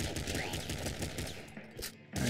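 Shotgun fire in the video game Nuclear Throne, a dense run of rapid blasts packed through tight corridors, loud and continuous with shells clattering, briefly dropping out before resuming.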